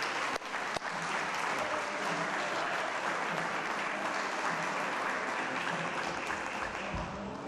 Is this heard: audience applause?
yes